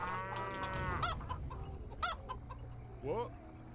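Video-game chickens cluck in a farming strategy match, several short rising squawks and clucks standing out over a steady game soundtrack.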